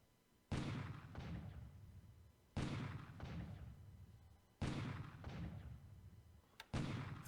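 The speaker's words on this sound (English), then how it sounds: "Firing into the Chinese units, not really doing any damage to them" Artillery in a WWII strategy video game firing on Chinese units: four heavy booming shots spaced a couple of seconds apart, each with a long rumbling tail, alone and fairly quiet.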